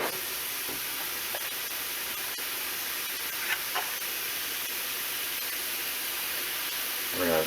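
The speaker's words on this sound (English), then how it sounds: "we're going to saute that together with the onion" Onions sautéing in a pan with a pinch of salt give a steady, even hiss that fills the whole stretch, close and moderately loud, with a few faint clinks rising above it near the end.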